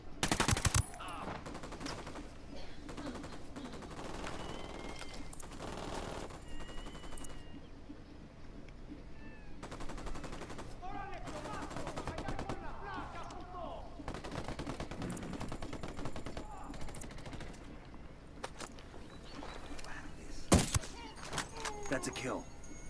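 Gunfire in the open-world shooter Ghost Recon Wildlands, with repeated rifle shots and automatic bursts cracking near and far across a long firefight, alongside clattering game effects and occasional talk.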